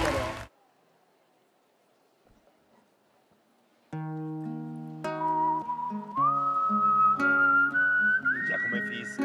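A performer whistles a melody on stage at a televised talent show bootcamp, clear sustained pitched notes that slide and step upward, loud and close, following a sharp burst of noise and a near-silent pause.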